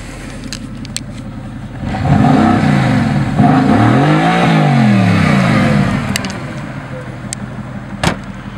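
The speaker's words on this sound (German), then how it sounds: "Hier ist Zauberknopf für Performance-Abgasanlage." A Mercedes-AMG GT S sports car with a performance exhaust system revs hard, its engine note rising and falling through several loud blips over a few seconds, then settling back to idle with brief clicks after.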